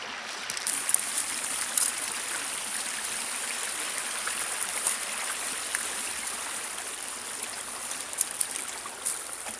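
Creek water flowing steadily after a recent flood, a soft continuous rushing and trickling murmur at a distance, with no talking.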